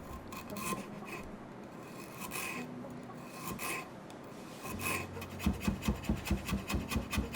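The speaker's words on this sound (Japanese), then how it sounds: "生姜、皮をむきましょう。 それを千切りにしていきます。" Fresh ginger being peeled and cut into thin julienne strips on a board, with soft scraping and rubbing, then a quick run of rhythmic knife taps toward the end, close and fairly quiet.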